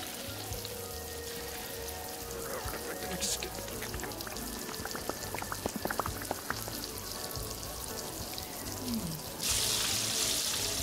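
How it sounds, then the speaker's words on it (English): An egg sizzles in a frying pan in the video game Arctic Eggs, giving off a steady, fairly faint crackling hiss with scattered pops, which swells into a louder, brighter burst near the end. "Listen to that sizzle."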